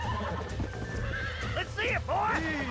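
Horse whinnies and hoof clip-clops from the video game Red Dead Redemption on PC, loud and close, with a rising, wavering neigh near the end over a steady low rumble of game ambience and faint speech.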